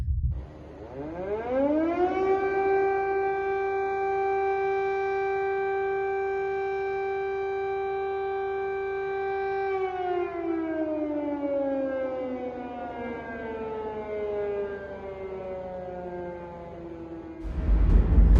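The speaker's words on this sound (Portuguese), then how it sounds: "as sirenes de alarme em Kiev soarem pela primeira vez, alertando sobre os ataques russos" A civil defense air raid siren in Kyiv rises in pitch, holds a long steady wail, then slowly falls away, loud and alone with no voices.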